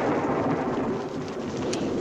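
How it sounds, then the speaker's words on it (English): A thunderstorm with heavy rain pours steadily, a dense rushing hiss with low rumbling of thunder underneath, loud and continuous. "The storm will likely be over by the time dinner's finished."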